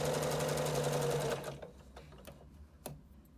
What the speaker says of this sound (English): And I just sew around, keeping the edge of my cap on the 3/8 mark